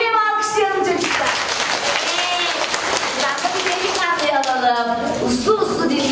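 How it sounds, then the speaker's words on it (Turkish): A group of children claps together in steady, dense applause that fills the whole stretch, with young voices calling out over the clapping. "O zaman yine mi alkışlayalım çocuklar?"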